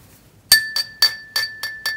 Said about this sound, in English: Clink clink. I just put a bit of water on my tool.